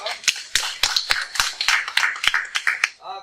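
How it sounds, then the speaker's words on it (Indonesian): Classmates applaud a student group in class with sparse, rhythmic hand claps, close and distinct, while voices carry on underneath. "kita beri tepuk tangan dulu untuk kelompok Maiko."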